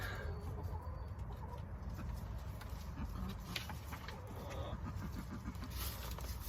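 Chickens clucking and calling steadily in a noisy farmyard setting, moderately faint with constant background noise and occasional scattered sharper calls.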